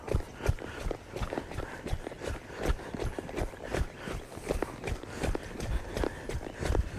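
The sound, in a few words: horse hooves while being ridden and steered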